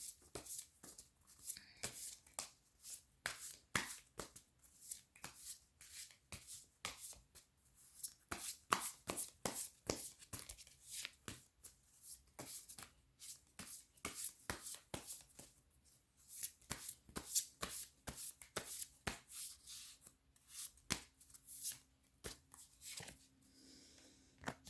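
A Fairies Oracle card deck is shuffled over and over by hand, producing a long run of crisp, close riffling and snapping bursts in an irregular rhythm with brief pauses.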